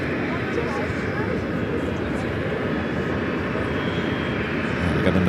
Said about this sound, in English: We got another CRJ taking off.